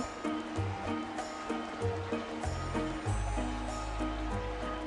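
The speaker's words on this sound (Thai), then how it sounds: "ไหลเหมือนน้ำตกเรียกสารเคมีน้ำตกจะดีกว่า" A chemical waterfall in the Roblox video game gives a continuous, fairly loud rushing flow like a stream, overlaid with bright synthetic game tones and a low rumble, with no voice heard.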